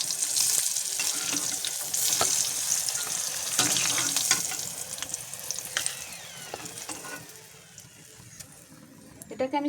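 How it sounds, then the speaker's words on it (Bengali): Pointed gourd (potol) frying in oil in a kadai gives a steady, close sizzle with occasional crackles and stirring scrapes, easing slightly toward the end. "পটলগুলো খুব সুন্দরভাবে লাল লাল করে ভাজা হয়ে গেছে।"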